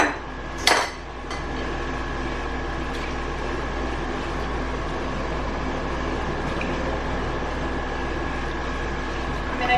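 Vegetable broth made in an Instant Pot is poured through a strainer into a big bowl: a sharp metallic clank near the start, then a steady, close rush of liquid streaming and splashing throughout.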